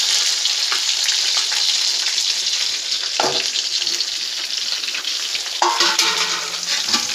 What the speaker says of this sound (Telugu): ఇప్పుడు బీరకాయ వేసుకుందాం, కట్ చేసుకున్నది.